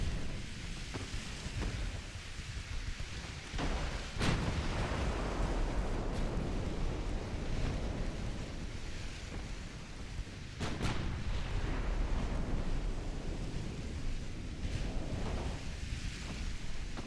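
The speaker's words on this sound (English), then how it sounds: "You can see they're already firing at us." An enemy fleet's naval guns firing in a game: a few sharp, distant booms break through a steady wash of wind and sea noise, spaced several seconds apart.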